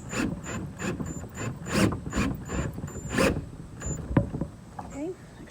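A power drill drives a screw into a wooden bench in a series of short whirring bursts, close and moderately loud, with a person talking between them.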